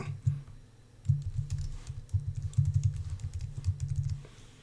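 Typing a password on a computer keyboard, a run of fast, uneven key clicks, close and fairly quiet, with short pauses between bursts and no voices.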